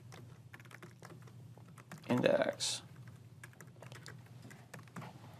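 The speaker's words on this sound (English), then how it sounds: "A lot of typing, but we don't want to hide anything from you." Steady computer keyboard typing while coding an ASP.NET Core tutorial, rapid close clicks running under a speaking voice, with a brief louder burst of noise in the middle.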